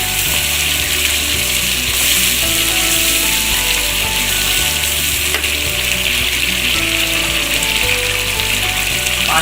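Spiced masala for nargisi kofta curry sizzles and crackles loudly and steadily in a hot pan as it fries, a dense continuous hiss with no talking.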